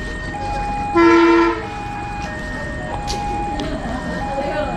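A Serayu train at Tasikmalaya station sounds a single loud, tonal horn blast lasting about half a second, standing clear above the steady hum of the platform, with voices murmuring in the background.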